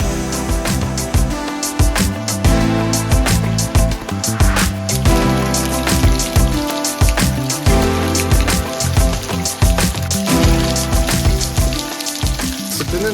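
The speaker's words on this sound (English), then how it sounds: "there's just water coming off of this cliffside" Water drips and pours off a rocky cliffside at Hocking Hills, a dense and loud patter of drops like heavy rain hitting the ground nearby, with no talk.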